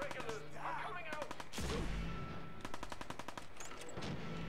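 Rapid automatic gunfire in the video game Fallout 4, with several sharp bursts of repeated shots spread through the clip at moderate level and a brief voice in between.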